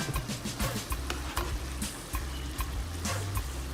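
Bubbling, sizzling liquid in a pan with repeated scraping strokes of a spoon stirring through it, steady and close.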